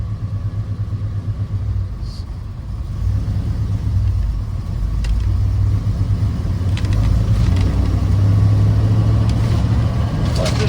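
A 1973 Ford F250 Highboy 4x4 pickup with a 360 V8 and Holley Sniper fuel injection drives in second gear, its engine a steady low rumble that builds slightly as it accelerates, heard from inside the cab.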